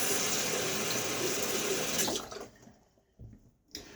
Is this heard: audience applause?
no